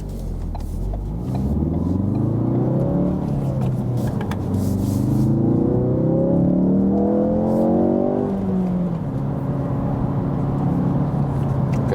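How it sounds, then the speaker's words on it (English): A Ford Focus RS hot hatch, 350 hp, accelerates hard on the Autobahn, its engine rising through several gears with clear upshifts, a loud close rumbling roar over steady road and wind noise. "welcome to the driving part with the Focus RS"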